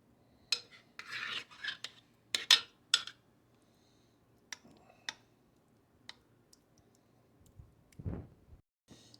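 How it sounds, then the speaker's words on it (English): Hands rubbing marinade into a roast, heard as sparse, close, soft rasping and squelching strokes with small clicks and quiet pauses between. "Just rub it all in there."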